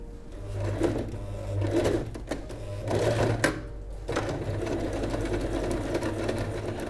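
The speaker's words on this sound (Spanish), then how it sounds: "Una vez que lo tenemos, cosemos." Domestic sewing machine stitching a handle onto a handbag, running in steady motor-driven bursts with short pauses between runs, close and clear with no talk.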